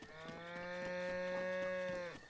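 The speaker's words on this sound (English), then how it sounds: "we can see just a bunch of cows, some sheep" Cows in Hateno Village in Zelda: Breath of the Wild, a single long, close, sustained moo lasting about two seconds, heard alone.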